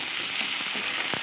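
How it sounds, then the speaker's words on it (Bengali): Dry chilli, ginger and cumin paste masala fries in a pan with a steady hiss, broken by a couple of faint scraping stirs near the end, brief and without voices. "এরপর দিয়ে দিচ্ছি শুকনো লঙ্কা, আদা, জিরা পেস্ট। এবার আবারও নেড়ে চেড়ে মশলা"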